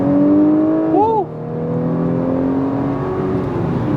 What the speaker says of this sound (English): You get more engine sound.